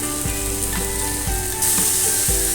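Fried jackfruit, potatoes and slit green chilies sizzle in a pan for an unripe jackfruit curry, with steady frying hiss and several regular scraping stirs of a spatula; the sizzle brightens near the end. No one talks.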